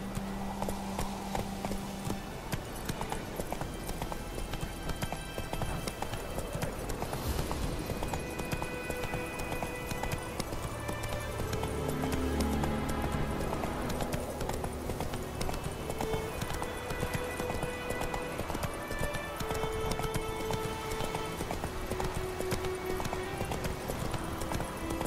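Roach the horse gallops in The Witcher 3, a steady run of hoof clip-clops under continuous game music and ambience, loud and ongoing throughout.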